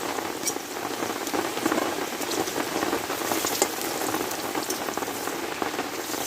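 Dried red chillies fry in hot oil with a dense, steady sizzle and crackle that runs unbroken and close-up, no voices over it.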